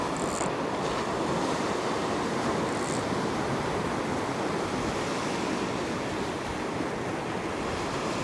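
Rough winter ocean surf crashing against coastal rocks, a continuous loud wash of breaking waves with wind noise buffeting the microphone.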